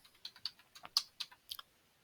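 Quick, light keystrokes on a computer keyboard as a number is entered into a prescription form, about a dozen close, crisp clicks in a short irregular burst.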